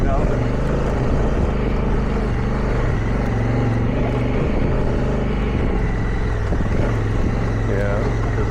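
A motorcycle engine labors steadily up a rough dirt trail on Rampart Range Road in Colorado, a loud continuous drone close to the microphone with wind rumble throughout and no break in the engine note.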